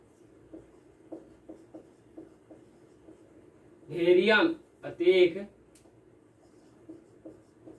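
Pen strokes scratch lightly on paper in short, evenly spaced bursts as numbers are written by hand for a maths example, with a voice speaking briefly over the middle.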